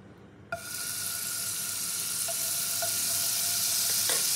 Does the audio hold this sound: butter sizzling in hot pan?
yes